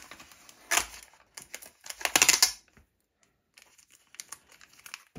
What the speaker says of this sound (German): Oh, ist Tesafilm.